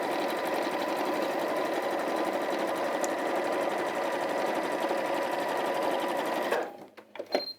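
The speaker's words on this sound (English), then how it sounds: "I'm just going to top stitch across the top, longer stitch length again." A sewing machine runs continuously at steady speed while top stitching fabric with a long stitch length, close and even for most of the clip, then stops, followed by a few handling clicks.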